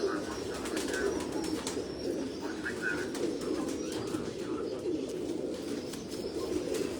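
Pigeons coo on a rooftop, soft murmuring calls against a steady background hum, with a few brief chirps heard at moderate distance.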